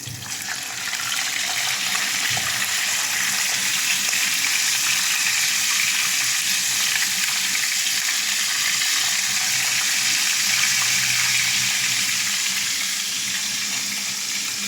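Loud, steady sizzle of fish frying in hot oil, a constant crackling hiss close by that barely changes throughout.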